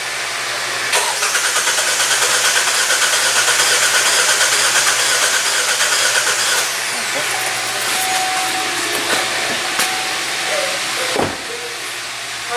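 A 2017 Hyundai Tucson with a new short block and a cylinder misfire cranks with an injector connector unplugged, a loud sustained starter whir that later drops in level, with no speech.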